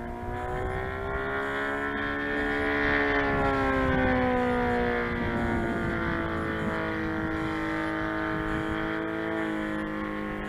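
A TF Corsair model airplane powered by a Saito FG90 R3 engine flies past, its loud, strongly harmonic engine drone rising and falling in pitch as it sweeps by, continuous with no talking.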